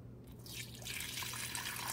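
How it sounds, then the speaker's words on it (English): Water being poured into the rear reservoir of an Amazon Basics 12-cup programmable coffee maker, a steady close splashing trickle that builds slightly and runs on without talk. "We got to pour the water in the back."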